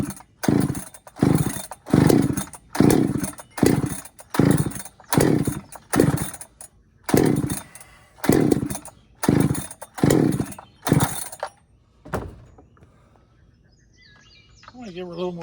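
A freshly ported Holtzfforma 395 chainsaw revs in a loud, repeated rhythm of about a dozen short bursts, each rising and dropping, then falls to a faint idle near the end.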